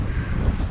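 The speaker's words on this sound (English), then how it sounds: "it's quite exposed, the place, it's quite windy" Wind buffets the microphone at an exposed spot beside a church in Greece, a loud, low, ragged rumble over a brief moment with no voices.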